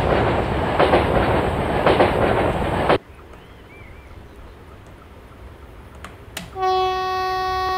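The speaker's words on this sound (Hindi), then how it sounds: "क्या पहाड़ियों से निकलती हुई जा रही है ट्रेन अपनी" A WAG 7 electric locomotive in a train simulator game on the Kerala valley route rumbles along loudly, then the noise cuts out abruptly to quiet track sounds before a long, steady horn blast begins.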